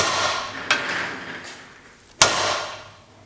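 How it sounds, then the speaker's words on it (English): Two sharp metallic whacks ring out a second and a half apart as a hammer drives an extended rear ball joint for a Honda S2000 out of its knuckle, which is held in a bench vise. "we're just going to take this and give it a couple good whacks to get it out"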